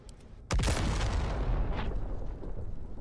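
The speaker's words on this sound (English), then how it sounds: "Another crate, and then an explosion sound" An explosion goes off after a crate is opened in Baldur's Gate 3, a sudden loud blast with a sharp onset that rolls into a long rumbling tail.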